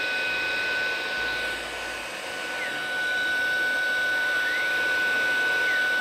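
Vax Blade 2 Max cordless vacuum cleaner running in turbo mode, a loud continuous motor whine with a steady high tone, briefly dipping then settling into a constant roar, no talk.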